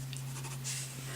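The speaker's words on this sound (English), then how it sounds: "just mark on your paper and see if you like those two together" A marker scribbles on paper while coloring, soft quick strokes in short bursts over a steady low electrical hum, close and quiet.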